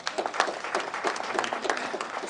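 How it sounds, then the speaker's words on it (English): Audience applause at the release of Kenya's 2021 KCPE exam results: steady, dense clapping from a crowd throughout the short stretch. "I request all of us here to put our hands together and just give a clap"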